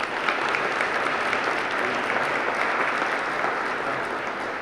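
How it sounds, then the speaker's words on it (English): Sustained audience applause for two assistant U.S. attorneys at a Law Day 2015 event, a dense, steady wash of many hands clapping that runs throughout without pause. "Give them a round of applause"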